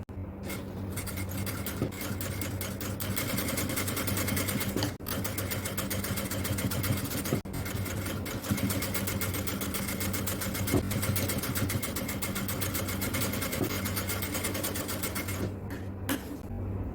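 A sewing machine runs steadily while stitching lace onto an XL-size jalabiya, a continuous close mechanical hum that holds without pause, with only brief dips.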